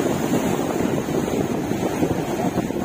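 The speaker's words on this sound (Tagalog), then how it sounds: "Lakas kasi ng alon." Heavy sea waves roll and wash continuously against the shore at Barangay Bilaran, Nasugbu, Batangas, a dense, rushing roar mixed with wind buffeting the microphone, with no voices.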